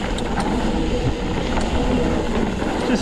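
Mountain bike tyres roll steadily while coasting on a Canfield Nimble 9 hardtail, giving a continuous loud rumbling whir with no talk.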